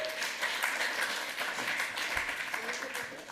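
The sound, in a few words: applause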